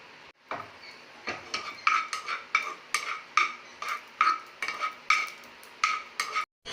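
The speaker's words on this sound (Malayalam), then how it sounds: "ഇനി നമുക്ക് ഇതിലേക്ക് നമ്മുടെ കാഷ്യൂനട്ട് ആഡ് ചെയ്യാം" Cashew nuts frying in coconut oil are stirred with a spoon against the pan, giving close, rhythmic scraping and clinking strokes about twice a second over a soft sizzle.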